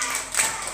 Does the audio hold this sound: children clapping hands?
yes